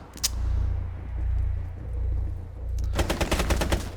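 Rapid automatic gunfire in Rainbow Six Siege, one short early burst followed after a low rumbling pause by a loud sustained volley of dense, crackling shots.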